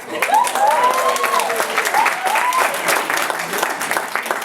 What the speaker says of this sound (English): You're going to clap anyway.